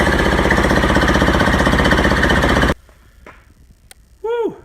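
A snow blower engine runs loud and close with a fast, even chugging beat, then cuts off abruptly, leaving quiet, a few faint knocks and a short voice.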